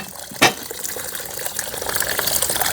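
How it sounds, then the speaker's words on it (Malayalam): Water pours steadily over rice in a vessel to wash it, a continuous rushing gush that grows a little louder as the vessel fills, beginning after a brief knock. "അരി കഴുകി ഇതായാലും വെള്ളം ഒഴിക്കണം"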